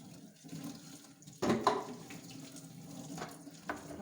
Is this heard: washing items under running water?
yes